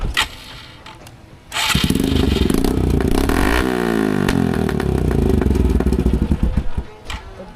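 A Suzuki Gixxer motorcycle fitted with an aftermarket silencer starts up after a quiet moment. The engine then runs loud and close with a rough, throbbing exhaust note, revs briefly, and drops back toward the end.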